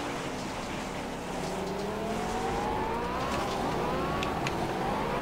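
A McLaren P1 race car in the racing game Project Cars, its engine revving loudly and climbing in pitch as the wheels spin, a steady, continuous roar throughout.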